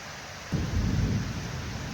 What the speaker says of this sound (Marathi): विजा खूप जास्त जोरात जोरात चालू आहे